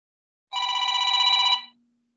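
A mobile phone ringtone plays as one bright electronic ring of about a second, loud and close, then cuts off into quiet. No talking.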